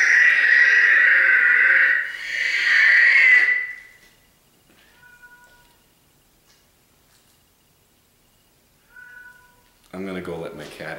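A cat meows loudly and drawn-out, twice in close succession, near the listener, followed by a long quiet stretch with a few faint tones and a closing burst of sound.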